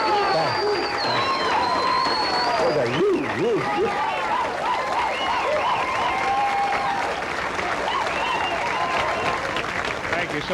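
A live audience at a comedy and music show applauds steadily throughout, dense continuous clapping and crowd noise with voices and musical tones rising over it.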